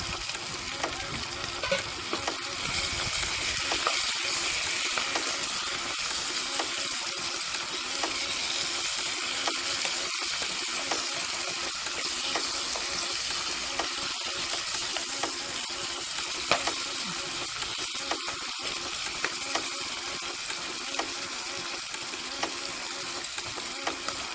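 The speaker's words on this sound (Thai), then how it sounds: "เราก็จะใส่ก้านลงไปก่อนเนาะ เพราะว่า ก้านนะคะเขาจะสุก สุกช้ากว่านะคะ จะสุกยากกว่า ก็จะใส่ก้านลงไปผัดก่อน" Chinese kale stems stir-fried in a hot pan, a steady dense sizzle running throughout with scraping and tossing of the stems, loud and close with no voices.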